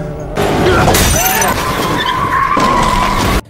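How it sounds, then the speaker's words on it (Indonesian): In a gang action film scene, a car skids, overturns and crashes with loud shattering and scraping, tires squealing through a sustained, close burst of impact noise that cuts off abruptly. "Setelah salah satu mobil geng terguling, hanya satu kelompok yang tersisa berdiri."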